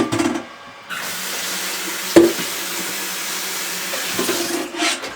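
Stale water poured out of a tea kettle into a sink, a steady splashing stream running for several seconds with a brief clank partway through, close and fairly loud.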